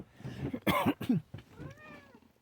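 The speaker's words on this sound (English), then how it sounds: "let's go inside here and see what Rocky Cat is up to." A cat gives a few short meows close by, followed by a longer, higher drawn-out meow, with quiet room noise around.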